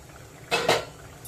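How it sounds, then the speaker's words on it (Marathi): A lid comes off a pot of potato curry simmering on medium heat, making two quick metallic clinks in close succession, close and clear against a quiet background. "4-5 मिनिटं झालेली आहेत, झाकण काढून बघूया।"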